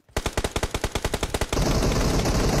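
Rapid automatic gunfire from the mobile battle royale game PUBG Mobile, about fourteen evenly spaced loud shots in a quick burst, then a dense sustained roar of continuous fire to the end.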